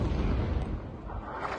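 Explosions from a bombardment in Rafah, a heavy low booming rumble that stays dense and loud throughout before thinning slightly toward the end.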